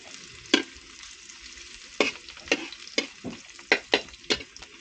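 Chopped garlic and onion fry in a pan with a steady sizzle, broken by about eight sharp clacks of a utensil scraping and stirring against the pan at uneven intervals. No one speaks.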